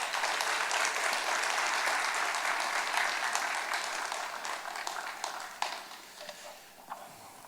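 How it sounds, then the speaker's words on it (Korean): A church congregation at a Sunday worship service claps in welcome for a visiting pastor from Israel: dense, sustained applause from many hands that gradually thins and fades toward the end, with no voices. "주님 이름으로 우리 환영의 박수로 환영하면서 하나님 말씀 듣겠습니다."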